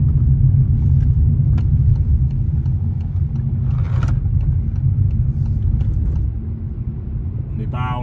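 Toyota Aygo X 1.0 VVTi 72 hp picking up speed on the road, a steady low engine and road rumble that holds loud and even throughout, with a brief higher tone near the end.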